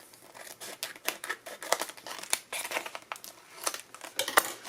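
Scissors snip apart a card kit stamp set, a run of sharp, close clicking cuts mixed with paper crinkling and rustling, fairly quiet and with no talk.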